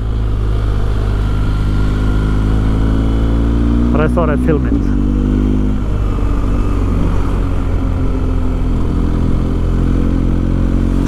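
A BMW R1250GS motorcycle climbs the Col du Telegraphe in the French Alps with a steady, close engine drone and wind rush. A brief shifting flutter breaks in partway through, and someone speaks over it.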